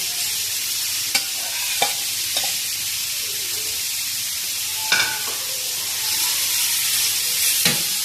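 Chicken pieces fry in hot oil with ginger garlic paste in a pan, a continuous near sizzle broken by several sharp spatula clacks and stirring scrapes.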